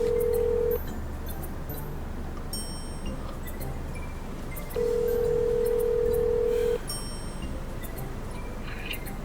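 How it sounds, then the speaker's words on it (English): A phone number is dialed on a telephone. Steady dial-type tones come and go over a constant background hum, with faint ticks and beeps in between and no talking. "Dial the number."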